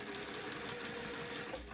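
Juki sewing machine stitching a face mask seam in a workshop, a steady close whirring hum that runs without a break and with no talking.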